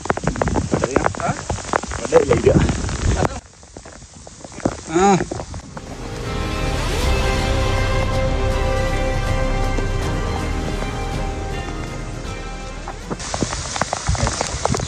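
Rain patters steadily on a surface, with a stretch of engine-like hum in the middle and occasional movement noises.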